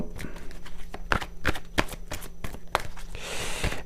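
Tarot cards are cut and shuffled by hand, giving a series of close, crisp riffling flicks. A louder, longer shuffle comes at the end, and there is no talking.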